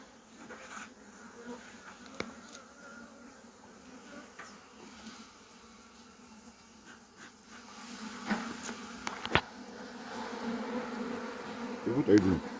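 Honey bees at an open beehive in Nigeria hum in a steady, dense buzz throughout, with the sound of handling and frame movement near the end.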